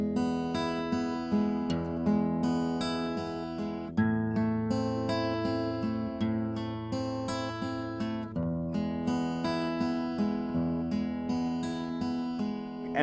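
Finger-picked guitar plays a steady repeating arpeggio pattern of plucked notes, clear and close, with a fuller strummed chord on the A near the end.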